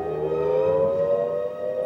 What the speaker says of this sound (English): this is what we've been getting all morning long, the wailing of air raid sirens